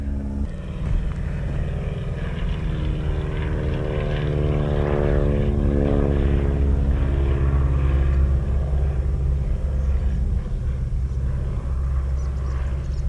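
A propeller airplane drones overhead, a loud, steady low engine rumble with a wavering propeller buzz that swells slightly and holds throughout, with no talk.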